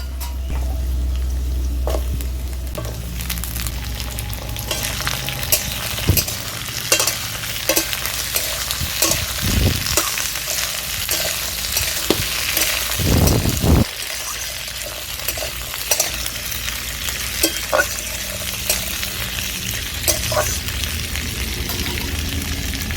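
Potatoes and Malabar spinach stalks frying in a pan for a Bengali chhechra, a continuous loud sizzle with frequent spatula scrapes and knocks against the pan, plus a couple of heavier bursts midway, with no talking.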